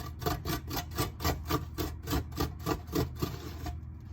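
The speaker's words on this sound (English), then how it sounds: "So I'm just gonna grate up my ginger." Fresh ginger root rasped back and forth on a grater, a close, steady rhythmic scraping of about two strokes per second that carries on for several seconds and then stops.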